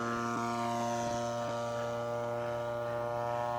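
Gilmore Red Lion Racer RC airplane with a 33cc engine in flight, a steady droning buzz with strong harmonic whine, held loud and constant throughout with no talk.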